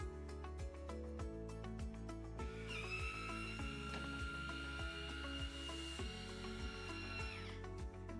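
A silicone injection machine fills a mold box with a steady mechanical hum and a faint rhythmic pulsing knock, joined midway by a high whine that holds for several seconds and then fades.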